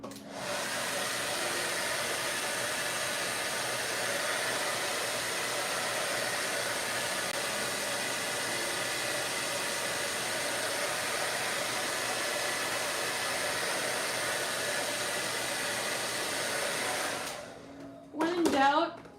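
A hair dryer runs steadily and loudly for about seventeen seconds, drying paint on a canvas, then cuts off abruptly, followed by a brief moment of voice.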